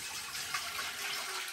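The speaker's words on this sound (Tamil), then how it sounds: "அதுக்குள்ளே கொஞ்சம் தண்ணி விடுறேன்." Water poured into a cooking pot while preparing odiyal kool, a steady close splashing stream running the whole time with no talk.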